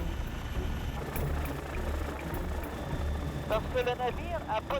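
A steady low rotor drone and engine rumble of a helicopter flying over the Saint Lawrence for ice clearing persist throughout, with a voice speaking over it toward the end.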